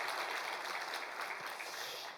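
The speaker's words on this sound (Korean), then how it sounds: "한 번 더 우리 감사하는 마음으로 할렐루야 성가대 박수하겠습니다" Church congregation clapping for the Hallelujah choir, a steady, fairly quiet wash of applause that holds evenly throughout the short stretch, with no voices over it.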